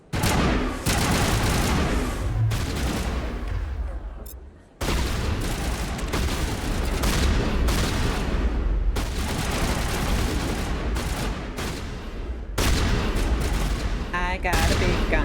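A big gun fires in the video game Mass Effect: dense, loud, continuous bursts of gunfire with booming impacts, a brief pause partway through, then sustained shooting again.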